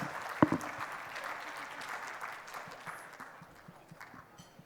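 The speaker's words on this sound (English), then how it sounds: "Can we please have a big round of applause?" Applause from an audience at the Jewellers For Hope 2022 charity event, a fairly faint, thin patter of clapping after a sharp opening clap, tapering off over a few seconds.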